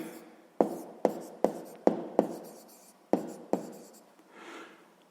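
A pen writing out a sixth-grade maths solution on paper: a series of sharp taps and scratchy strokes, about seven distinct marks at irregular intervals, close and fairly clear, with no voices.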